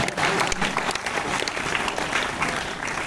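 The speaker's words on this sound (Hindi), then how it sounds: "व्यंग्य ऊपर बढ़ रहा है, तालियां तेज हो।" A crowd at a Hindi comic poetry gathering claps steadily, a dense sustained round of applause of moderate loudness that continues without pause, with faint voices mixed in.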